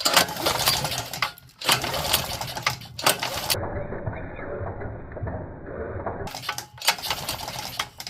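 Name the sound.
small engine pull-started to check for spark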